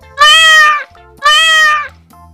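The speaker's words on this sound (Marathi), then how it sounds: "मांजराच्या या आवाजाला आपण म्याव म्याव असे म्हणतो" A cat meows twice, loud and close, each call drawn out for about half a second with a short pause between them.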